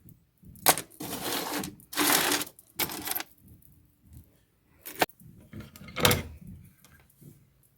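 A drawer in a sewing and craft studio is pulled open and handled, giving several scraping slides and sharp knocks spread over a few seconds, close and fairly quiet.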